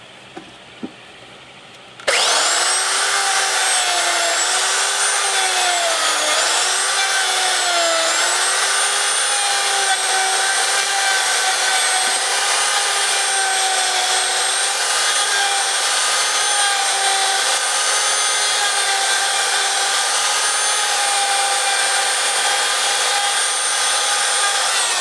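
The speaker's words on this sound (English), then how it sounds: "This router, and that's a wood bit." A wood-bit router cuts grooves into a turf tire, starting abruptly after a quiet moment into a loud, sustained high whine with shifting pitch that runs on steadily close by.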